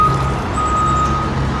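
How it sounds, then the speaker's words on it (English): Steady, evenly spaced reversing beeps from a loader truck backing up at a worksite, ringing out loud and clear over a constant low engine rumble with no talking. "Hey, that's the loader. They're loading the big boy over there."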